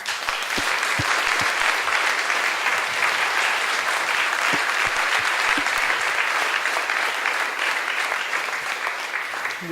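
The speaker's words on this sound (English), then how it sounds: "One more round of applause, please." An audience applauds steadily after a film screening and Q&A, a dense, even wash of many hands clapping that holds at full strength throughout and fades slightly at the very end.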